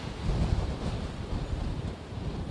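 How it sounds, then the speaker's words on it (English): Strong storm wind gusts roar and buffet the microphone in a steady, heavy low rumble outdoors during a California storm, with no voices. "the wind gusts really picking up"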